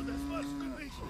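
A single short cow moo from the video game LEGO Jurassic World, a loud steady low tone lasting under a second and tailing off, heard alone.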